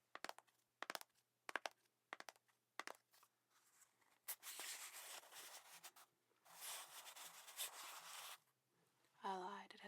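A plastic baking powder container cap handled up close, giving a run of crisp clicks and taps followed by longer rustling, scraping handling noises, with a brief voice at the end.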